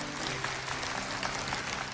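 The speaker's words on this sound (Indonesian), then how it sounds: "Kasih tepuk tangan untuk Tuhan Yesus" Church congregation applauding during a sermon, a fairly quiet but continuous wash of clapping from a crowd, with faint low hum beneath.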